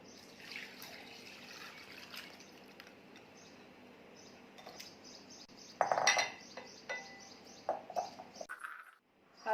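Chilled solkadhi, a coconut-milk and kokum drink, is strained into a vessel: a soft trickle of liquid with scattered clinks and clatters of the strainer and utensils, growing busier near the end.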